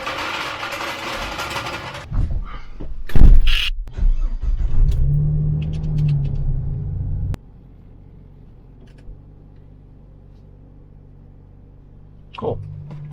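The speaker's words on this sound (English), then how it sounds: "we're gonna open the garage, pull it out, pull it in, let it center itself" A Jeep pulls out of and back into a garage with its engine rumbling, loudest for the first seven seconds, then a quieter idle hum with a brief clunk near the end.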